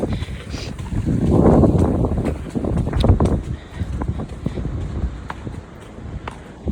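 Gusty wind buffets close up while out horse riding, rising into heavy rumbling surges with scattered clicks and knocks in between.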